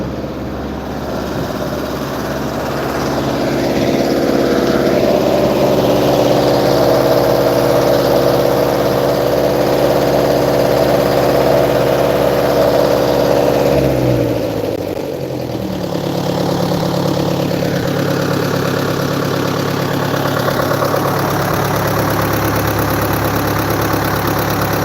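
The engine of a topsoil screening machine runs loud and close, a steady rumbling drone that dips briefly midway and then keeps going.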